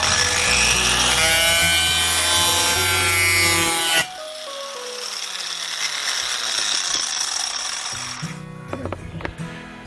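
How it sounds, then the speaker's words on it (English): Power saw blade biting through the corner of a Formica laminate sheet, a loud sustained whine that cuts off abruptly, then a quieter spinning-down tail with light rattles and knocks near the end. "So we're going to cut this corner here as our test piece to see if this blade will actually cut the laminate without chipping"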